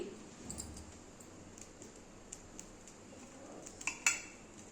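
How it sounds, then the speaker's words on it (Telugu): A kadai pan set down on a lit stove gives faint metallic clicks and clinks, with a sharper knock near the end, over a low steady background hum. "ఇప్పుడు స్టవ్ వెలిగించి కళాయి స్టవ్ పైన పెట్టేసి"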